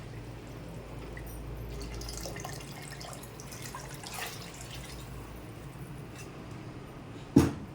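Water is poured into a large pot of Chennai-style wedding chicken biryani made with 2 kg of rice. The pour is a steady, soft gushing and trickling that ends in a sharp clunk.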